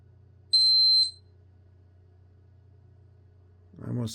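A single shrill electronic beep from the temperature meter of a paranormal EMF detector lasting about half a second rings out, followed by quiet hum and then a voice starting to speak.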